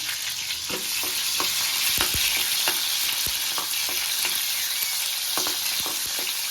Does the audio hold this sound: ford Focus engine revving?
no